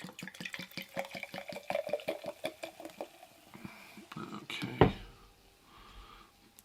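Mountain Dew poured from a 2-liter plastic bottle into a mason jar, a rhythmic glugging stream followed by a sharp knock near the end, with quieter fizzing after.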